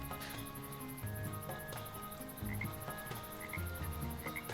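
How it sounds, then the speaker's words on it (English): Frogs croaking by a lake in a video game, a soft layered chorus of ambient calls with chirps under faint game sounds, continuous and fairly quiet. "I probably hear the frogs all the time because my camera is over this lake"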